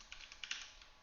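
Quiet, rapid keystrokes tap on a computer keyboard while someone types code, a short irregular run of soft clicks heard close up.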